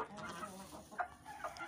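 A desi (native Pakistani) hen gives a few short, soft clucks in quick succession, close by, with a quiet farmyard background.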